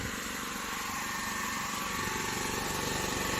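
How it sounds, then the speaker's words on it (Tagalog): A compressor engine runs steadily inside a mobile tire service van, a loud continuous droning hum with a fast rhythmic pulse. "Ito naman yung compressor na nagbibigay ng ilaw."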